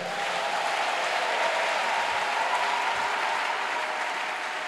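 A church congregation applauds steadily after a French-language sermon, a dense, continuous clapping that holds at an even level for the whole stretch with no voices above it.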